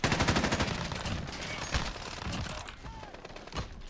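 Rapid automatic fire from a CR-56 AMAX assault rifle with 40-round magazines in Modern Warfare, a dense burst of rhythmic shots up front, then scattered louder single cracks and distant game effects.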